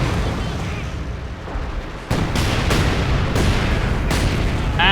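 Light artillery shells land in a Company of Heroes 2 battle: several sharp booms and bursts, one heavy impact near the midpoint and more following, over a constant loud wash of combat noise.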